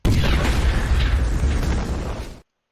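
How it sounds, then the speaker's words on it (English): A loud, dense explosion blast rumbling for about two seconds, then cutting off abruptly into silence. "I just have us say something dumb and then an explosion."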